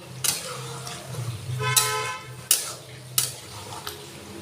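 A mixed vegetable curry with roasted ground spices, bay leaf and sugar is stirred in a pot, with several sharp spatula knocks and scrapes over a soft background hiss.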